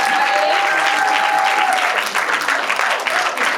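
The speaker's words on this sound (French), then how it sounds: "Toujours des applaudissements" A cinema premiere audience at Le Brady applauding the film team called onto the stage, loud continuous clapping from a packed room, with a few voices calling out above it.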